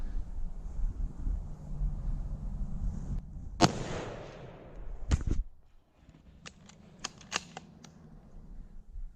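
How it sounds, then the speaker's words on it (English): A single sharp rifle shot rings out during a deer hunt outdoors, a loud broadband crack with a decaying tail, followed by a few fainter clicks and knocks such as bolt handling. "If you feel confident, squeeze off the shot."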